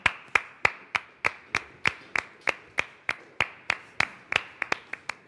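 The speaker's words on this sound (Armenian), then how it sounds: "Մենք ծափարում ենք" Hand claps from two people, about twenty sharp, evenly spaced slaps in a steady rhythm, close and loud with no talk over them.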